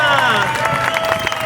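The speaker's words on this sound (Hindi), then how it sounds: "तालियां" An audience at a game show prize-giving bursts into applause, dense steady clapping mixed with crowd babble and voices, loud and close throughout.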